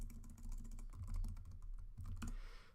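Fingers type a command on a computer keyboard, a rapid, close run of small clicking keystrokes with brief pauses and no talking.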